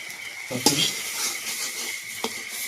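Spiced potato filling with turmeric and salt being hand-mixed in a bowl for mocha chop, giving soft scraping and a couple of sharp clinks of utensils against the dish, close and fairly quiet.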